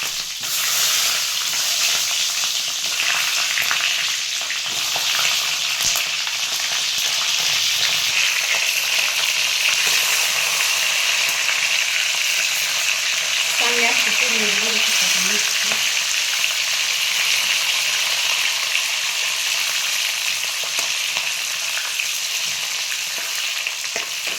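Green chillies fry in hot oil with a steady, loud, broadband sizzle that carries unbroken throughout, with a brief stirring scrape partway through and no talking.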